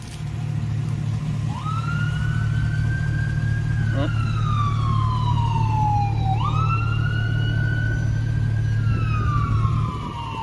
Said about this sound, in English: Of course, there's an ambulance.